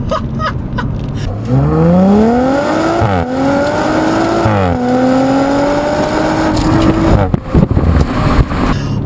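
A 2018 Audi RS5 accelerates hard on a back road, its engine revving loudly and rising through the gears with brief shift dips, close and continuous inside the cabin.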